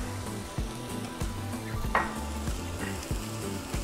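Mushrooms fry in rendered bacon fat with a little olive oil in a pan for creamy bacon pasta, a steady close sizzle broken by several soft stirring scrapes and clinks of a utensil against the pan.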